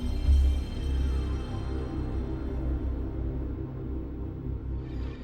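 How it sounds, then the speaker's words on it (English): A PlayStation console startup sound: a deep, swelling synthesized drone with shimmering high tones that slowly fades over about five seconds, with no talking. "I present the PlayStation startup sound."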